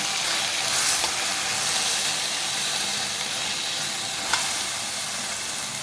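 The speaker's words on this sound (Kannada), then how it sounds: "ಟೊಮೊಟೊ ಹಾಕ್ಕೊಂಡಿದ್ದೀನಿ. ಇದೆಲ್ಲ ಹಸಿ ವಾಸನೆ ಹೋಗೋರಿಗೆ ಹುರ್ಕೊಳ್ಳೋಣ." Tomatoes fry in a pan for hotel-style palak paneer, giving a loud, steady, close sizzle with a couple of faint stirring clicks and no talking.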